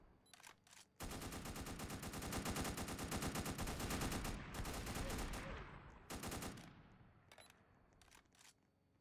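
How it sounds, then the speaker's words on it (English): Sustained machine gun bursts in a video game: dense rapid-fire volleys, loud and close, that stop and restart, then break into a few short separate bursts near the end. "They're gonna shoot us."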